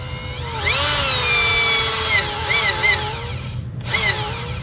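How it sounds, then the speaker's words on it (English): A power drill bores into metal on a Mercedes-Benz M103 engine with a continuous close whine that rises and falls in pitch as the bit bites, then stops briefly near the end before starting again. "then I should be able to start drilling off of that"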